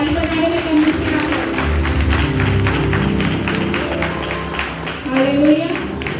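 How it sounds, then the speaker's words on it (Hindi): A church congregation claps in a steady patter of many hands that fills the space, with a preacher's voice over it and a swell of applause near the end. "यदि पसंद है तो ताली बजाने में कम से कम।"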